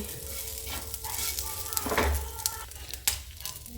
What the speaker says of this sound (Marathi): आता इकडं थोडंसं तेल टाकून खोबरं पण भाजून देते